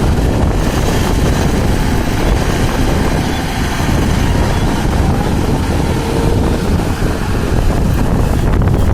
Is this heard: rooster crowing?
no